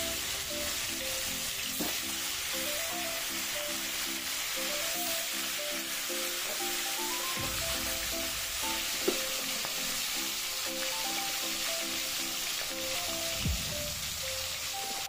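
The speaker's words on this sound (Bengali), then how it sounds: "এখন আমার মাছ ভাজা হয়ে গেল," Fish sizzles steadily in hot oil in a village home kitchen, a constant crackling hiss throughout with a soft melody running underneath and a couple of brief clinks.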